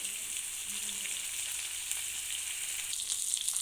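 Fish frying in hot oil with curry leaves tossed in gives a steady, fairly quiet sizzle and crackle that runs unbroken throughout, with no voices.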